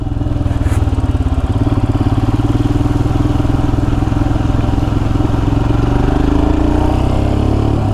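A motorcycle engine runs loud and steady the whole way through during a ride, with a continuous rumbling drone and slight shifts in pitch toward the end and no talking.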